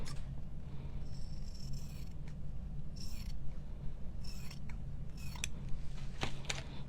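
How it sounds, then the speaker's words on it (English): Scissors trimming flannel fabric for a Gingie doll, a quiet series of crisp snipping cuts at irregular intervals over a low steady background hum, close up. "Let's trim it a little bit on this side"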